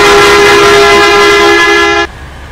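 A bus horn in an Indian bus simulator video game blares in one loud, steady, close tone for about two seconds, then cuts off sharply to quiet engine hum.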